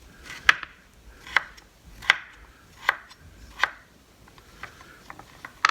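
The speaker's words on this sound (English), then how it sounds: "I'm just going to cube everything up and throw it in a bowl" Butternut squash being cut into cubes with a knife on a board, about six crisp, evenly spaced chops, close and clear, with no talking.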